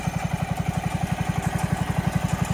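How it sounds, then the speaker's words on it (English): A 1970 John Deere 140 H3 garden tractor engine runs while tilling dirt, a steady low chugging pulse with even rapid beats, fairly close and alone without talk. "First time in 20 years that tractor has spun dirt."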